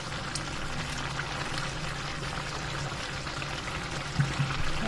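Onions hitting hot oil in a pan: a steady, loud sizzle and hiss that runs throughout with a few small pops near the end, no talking over it.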